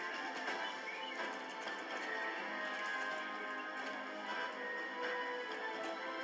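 Galloping horse hooves in the online riding game Star Stable, a steady rapid clatter of hoofbeats at even loudness throughout, with no talk over it.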